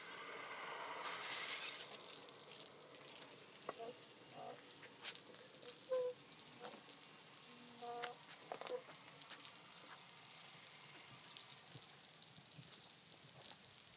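Water gushes and sprays from an opened fire hydrant, a steady hissing rush that swells early and then holds as a constant wash, with scattered faint knocks and clinks over it.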